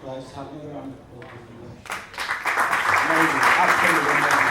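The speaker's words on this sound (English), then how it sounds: "Could I just have another round of applause?" Someone speaks, then an audience at a business speaking event breaks into applause that builds quickly and holds as loud, sustained clapping.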